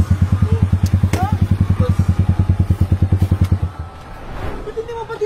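A Mio motorcycle engine revs in a fast, pulsing rattle for several seconds up close, then cuts out, with people talking around it.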